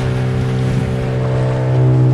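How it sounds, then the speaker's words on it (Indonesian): A fishing boat's engine drones steadily on a rough sea off Bali, with wind and water noise washing around it, loud and close throughout. "Ombaknya besar"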